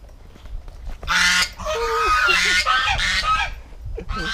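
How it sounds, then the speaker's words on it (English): Several loud geese honk in harsh, overlapping bursts close by outdoors in Vietnam, the calls rising and falling over a few seconds. "There's some very loud geese."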